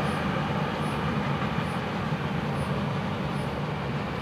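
Florida East Coast freight train FEC109 rolls past near Fort Pierce on a Saturday morning: a steady, loud, continuous rumble of wheels and cars close by, with no voices.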